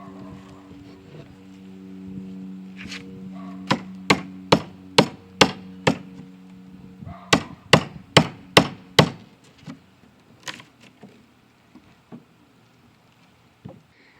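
A chisel carves away wood on a large dresser, striking in two quick bursts of sharp, evenly spaced knocks close by, followed by a few scattered taps.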